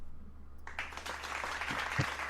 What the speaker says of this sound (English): Oh, there's actual clapping.